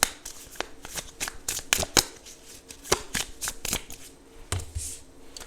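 Tarot cards are shuffled by hand in a quick, papery flurry of riffles and slaps, close and fairly loud, with irregular bursts for about five seconds before a card is drawn.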